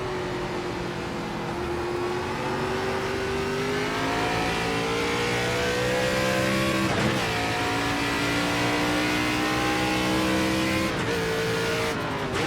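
A NASCAR ARCA race car at Watkins Glen in the iRacing sim gives a loud, steady engine roar that shifts in pitch through gear changes and throttle, continuous and close, with no voices.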